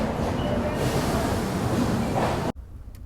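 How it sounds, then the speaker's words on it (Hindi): The Falaknuma Express train departing Visakhapatnam Junction railway station, a loud continuous rumble of rolling carriages heard close by, cutting abruptly to a quieter interior hum near the end. "हम डिपार्ट कर रहे हैं विशाखापट्टनम जंक्शन रेलवे स्टेशन से।"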